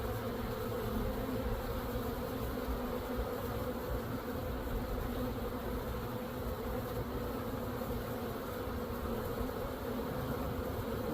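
Honey bees buzz around a newly installed hive in a steady, dense drone that lasts throughout. The swarm sounds close and constant, and nobody speaks.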